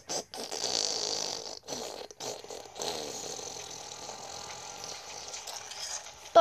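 Cartoonish fart sound effects from the Angry Birds Star Wars II video game: a run of sputtering, hissy bursts broken by short gaps, fairly loud and steady for several seconds, with no talk over it.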